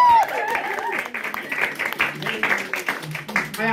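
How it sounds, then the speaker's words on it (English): A stand-up comedy audience applauds, scattered clapping mixed with crowd murmur and voices over it, uneven and rising and falling across the stretch. "Round of applause,"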